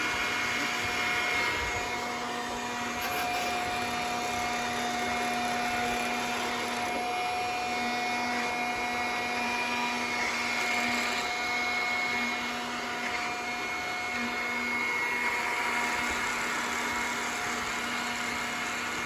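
An iRobot Scooba mopping robot runs on a floor, giving off a continuous, steady motor whir with a faint tonal hum and slight wavering, unbroken for the whole stretch with no voices.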